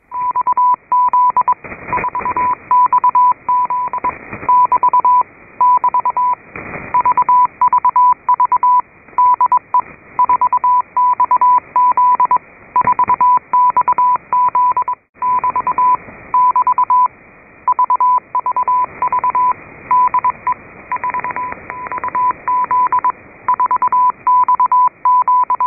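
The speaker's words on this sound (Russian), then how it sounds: "Станция эта работает на многих морских диапазонах, везде одинаковый формат у нее сообщений, везде одинаково свой позывной передает 4XZ." An Israeli naval radio station with callsign 4XZ transmits coded messages on marine bands, sending rapid repeating tone bursts through narrow-band shortwave static for the whole stretch.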